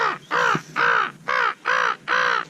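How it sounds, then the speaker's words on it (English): Crows caw five times in a steady rhythm, each call loud, harsh and nasal, with short gaps between them; no talking is heard. "Can I bring in the crows, you think?"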